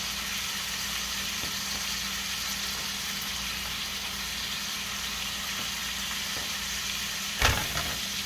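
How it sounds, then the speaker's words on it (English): Two pounds of hamburger meat fry in a skillet for lasagna prep, a steady soft sizzle running throughout with a brief louder clatter near the end. "I got 2 pounds of hamburger on my skillet"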